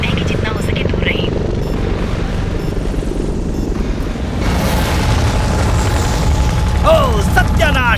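A helicopter hovers overhead during a military action scene, its loud rotor drone continuous beneath deep booms and voices, with a brief rising whine near the end.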